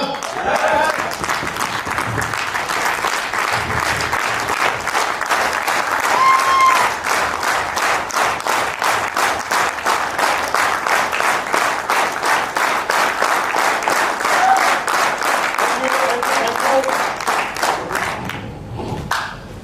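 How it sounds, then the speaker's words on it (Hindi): An event audience in Jaipur claps in a strong, rhythmic unison beat that continues steadily for a long stretch, with a thumping pulse throughout and a ragged finish. "जबरदस्त वाली तालियां अपने लिए."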